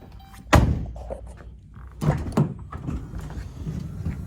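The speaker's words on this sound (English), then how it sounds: "again, dual power sliding doors." Power sliding door on a 2015 Dodge Grand Caravan SXT minivan running, with a sharp thunk near the start followed by a second pair of latching clunks and a steady motor hum, heard up close.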